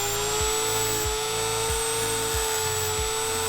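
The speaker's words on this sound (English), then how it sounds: "I've got to kind of grind this locking nut" A power grinder cuts into a saildrive locking nut, a high, steady whine with a thin tonal edge over a pulsing low rumble that repeats about every half second.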